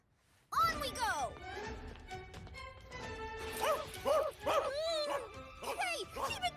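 A cartoon dog barking in an English-dubbed anime, a quick run of loud yaps and whimpers close up, mixed with bright music and sound effects.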